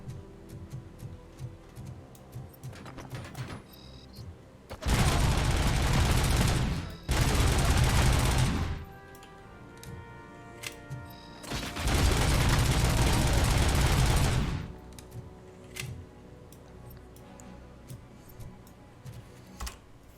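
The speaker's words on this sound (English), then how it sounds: "this makes it an automatic weapon, which shreds them" The Auto 9 automatic pistol fires in the video game Robocop: Rogue City in two dense sustained bursts of several seconds each. Sparse clicks and shots come before, between and after them, and no one talks.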